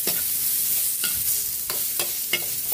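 Garlic, ginger and onion sautéing in a pan, a steady frying sizzle broken by several sharp scrapes and knocks of a ladle stirring at irregular intervals, close and fairly loud with no talking.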